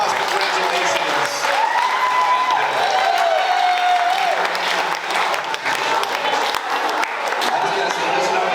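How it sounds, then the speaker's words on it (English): Wedding guests give a big round of applause at a reception, steady dense clapping and crowd noise filling the whole stretch, loud and close, with voices mixed into the cheering. "Nice big round of applause."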